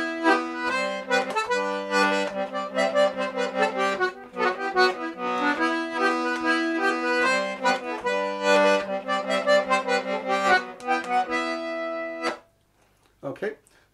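A D/G melodeon plays a Schottische tune with reedy chords and a bouncy rhythm punctuated by sharp bellows jerks, close and clear for about twelve seconds before stopping, followed by a brief voice.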